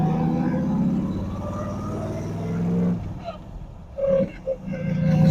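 A C3 Corvette pulls away in first gear, its engine rumbling loudly and rising in pitch, then easing off before picking up again, with someone talking over it.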